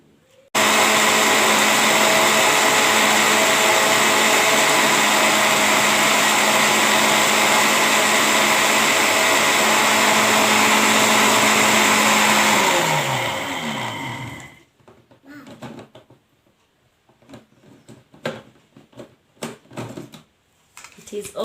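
A blender grinding dried neem leaves into powder, a loud steady high whir for about fourteen seconds that winds down and stops, followed by scattered clicks and knocks.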